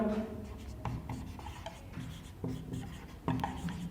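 Pen or marker writing a sentence on a board during an English class, heard as a close run of scratchy, rubbing strokes with short pauses between words.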